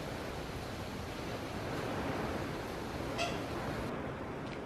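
Strong storm wind roars steadily outside as a dense, continuous rush of noise, loud and unbroken, with no voices present.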